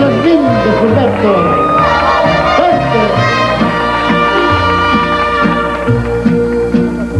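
A live audience at a televised Mexican music show cheers and shouts continuously and loudly throughout, with strong music-like tones running underneath the crowd noise.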